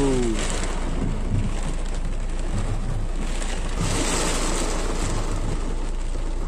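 Steady, dense rain patters against a windscreen, a continuous hiss of drops with a low rumble underneath.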